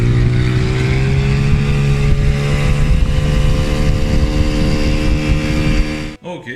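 An Evinrude Johnson 9.9–15 HP outboard boat motor runs steadily at a loud, even idle with a constant low hum, then cuts off abruptly near the end, leaving a brief mechanical clatter.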